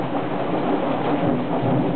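Heavy rain pours steadily during a Nashville thunderstorm, a dense continuous wash of hiss with a low rumbling undertone, loud and close throughout with no voices.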